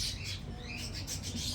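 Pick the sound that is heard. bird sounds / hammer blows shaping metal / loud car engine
bird sounds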